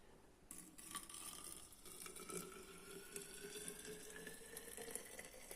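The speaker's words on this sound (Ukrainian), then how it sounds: "і заливаємо водою" Water pours steadily into a vessel, a continuous splashing rush whose pitch slowly rises as it fills, close by with no talking.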